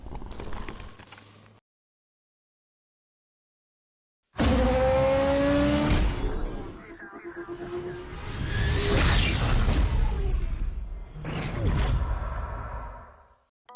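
Racing cars in Need for Speed Shift on iPhone: after a brief opening sound and a few seconds of silence, an engine roars in loudly, revving up through gears with tire squeal and whooshing passes, swelling and fading again.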